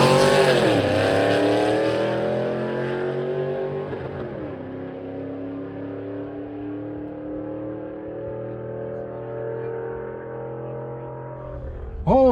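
A nitrous drag car on drag slicks makes a solo run at a dragstrip, its engine roaring loudly and shifting through gears with sweeping pitch rises, then fading to a steady distant drone before a brief nearby burst at the end.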